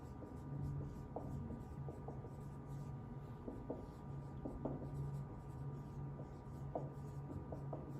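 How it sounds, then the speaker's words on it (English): A pen or pencil writes a sentence on paper, producing faint scratchy strokes over a low steady hum, close and quiet, with no talking. "Let's write our conclusion sentence."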